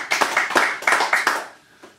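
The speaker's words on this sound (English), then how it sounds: "So more applause, please, for Jill." A few people clapping in a brisk, close burst that thins out and fades within a couple of seconds.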